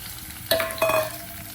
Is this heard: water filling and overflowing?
no